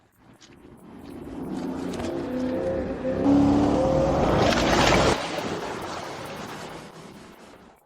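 A new car pulls in, its engine swelling from a low hum to a fuller roar as it nears, then easing off and fading toward the end.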